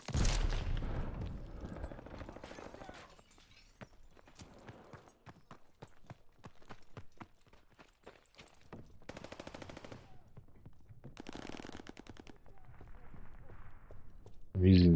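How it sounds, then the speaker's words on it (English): Sten submachine gun in a shooter game rattling off rapid automatic bursts of varying length, crisp and fairly close, separated by short pauses, with scattered distant shots and faint game noise between them. "I'm using the Sten. It's a pretty good gun."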